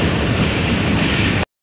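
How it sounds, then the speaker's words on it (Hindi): Hazara Express passenger train, heard from the last coach on the run from Karachi toward Kotri Junction, clatters steadily on the rails in a dense, loud, unbroken rumble that cuts off abruptly. "ट्रेन तकरीबन 6 मिनट अर्ली कोटरी जंक्शन के यार्ड में दाखिल हो चुकी है"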